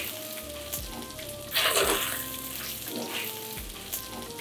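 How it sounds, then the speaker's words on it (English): Dried chillies sizzle and crackle in a hot pan, with a louder burst of frying midway and occasional stirring scrapes. "Stir this well and ensure the chilies get stir fried till they are wonderfully fragrant"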